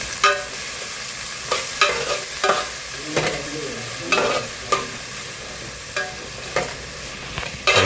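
Onion and tomato sauté in oil for a quick prawn curry, a steady sizzle broken by repeated clinks and scrapes of a spoon stirring the pan at irregular intervals.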